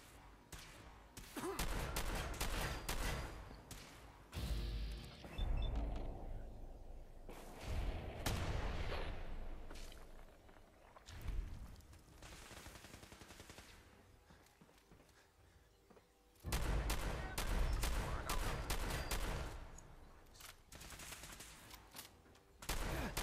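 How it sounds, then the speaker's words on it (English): Gunfire in Fallout 4 combat, with repeated bursts of shots and booming blasts coming in several loud clusters across the scene, some rapid and rattling, mixed with other game sounds and no talk. "Who else is shooting at me?"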